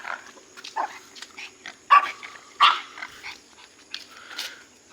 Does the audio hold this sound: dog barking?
yes